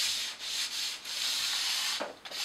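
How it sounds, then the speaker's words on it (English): Light hand sanding of wood to knock off rough edges before priming, a steady close scratchy rasp in continuous back-and-forth strokes with brief pauses between passes. "we're just going to make sure that there's no rough edges on it, so we'll just very lightly sand it off"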